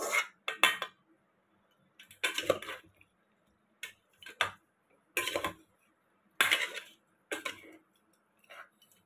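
A spoon stirs and scrapes through thick natu chicken curry as cooked chicken is mixed in, irregular clinks and knocks against the pot arriving in scattered bursts with quiet gaps between them.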